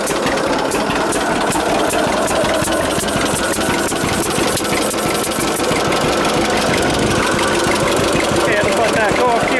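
A 1946 John Deere AR tractor engine running on heavy choke, a steady rapid knocking putt-putt rhythm close by, with someone talking over it.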